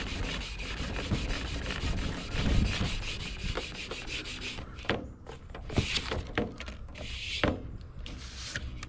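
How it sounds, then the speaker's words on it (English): Steel wool scrubs a chrome hub cap on a Cub Cadet 782, with WD-40 used alongside: close, steady rasping rubs build to a dense burst, then break into short, sharp scrapes. "Let's give the steel wool a try again."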